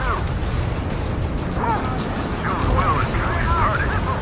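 Explosions in the jet combat game Ace Combat 7 during a pipeline destruction mission boom and rumble over a steady low roar of engines, with bursts swelling midway, while voices talk over the action.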